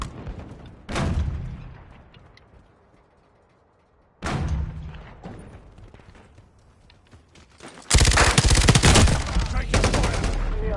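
Gunfire in Call of Duty Modern Warfare: two sharp loud shots, each ringing out and decaying, then a dense burst of rapid automatic fire that continues to the end, alone without talk.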